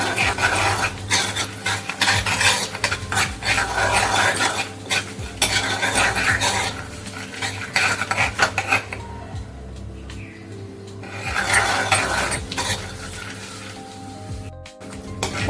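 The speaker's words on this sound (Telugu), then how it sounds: "ఈ పోపు అనేది బాగా ఫ్రై అవ్వాలి." Tempering spices, cumin seeds among them, frying in a pan as a utensil stirs and scrapes against the metal, with continuous sizzling and clinking that eases midway before the stirring returns, and no talking.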